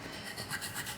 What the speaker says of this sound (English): Using my end of my scissors, I'm going to rub.